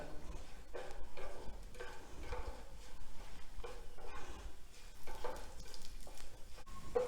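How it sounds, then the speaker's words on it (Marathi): Radish pods roasting in a little oil in a pan: a soft, steady sizzle broken by repeated scraping stirs at an uneven rhythm, close and fairly quiet, with no talk. "अतिशय कमी तेलामध्ये ह्या शेंगा भाजल्या जातात"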